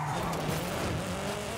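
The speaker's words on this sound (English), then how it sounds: "Spoke too soon, just ran it right into the wall." A car in the racing game Forza Horizon 5 skids into a wall on a snowy winter track, with loud sustained tire squeal over a straining engine, close and continuous throughout.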